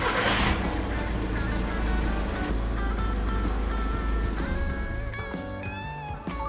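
A Volkswagen Golf Mk6 engine starting by push button and settling into a steady idle, with a low continuous rumble throughout and a few faint electronic chimes near the end.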